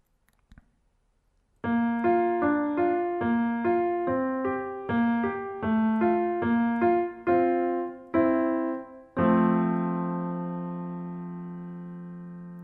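A piano plays a broken-chord Alberti bass figure, steady repeating low-high notes moving through a few harmonies, ending on a sustained ringing chord.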